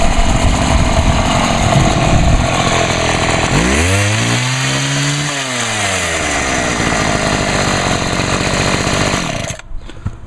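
A Homelite HT-21 gas hedge trimmer with a small muffler runs close by, buzzing steadily, then its engine revs up and winds back down in a smooth swell before cutting off near the end.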